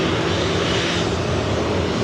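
Loud, continuous roar of a Southwest Airlines Boeing 737-800 jet taking off from LAX, a dense, even wash of engine noise close by.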